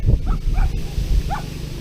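A dog near a road gives a few short yips and barks, spaced irregularly over a steady low engine hum, during a typhoon in Alaminos.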